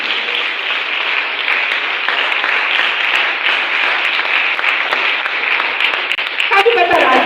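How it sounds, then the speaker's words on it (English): Crowd of attendees at a youth development workshop clapping steadily and loudly, a dense continuous patter of many hands close by, with a brief louder burst and voices at the very end. "Please keep clapping"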